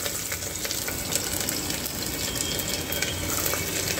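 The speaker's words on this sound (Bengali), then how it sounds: "সর্ষের তেলে রসুন আর পেঁয়াজ দিয়ে দেবো।" Garlic and onion pieces frying in mustard oil in a pressure cooker, a dense, even crackling sizzle heard close and alone for a few seconds.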